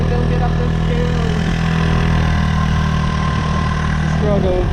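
A motorbike engine on Koh Samui labors at a steady, droning pitch while climbing a steep hill, close and continuous, with wind rush and a voice talking over it.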